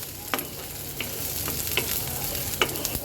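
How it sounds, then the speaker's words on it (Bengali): Chopped chili, garlic and onion sizzle in oil with a steady crackle, punctuated by several sharp scrapes of a spoon stirring the pan, frying lightly before bottle gourd peel and seeds are added. "মরিচটা একটু আর রসুন পেঁয়াজটা একটু ভাজা হলে"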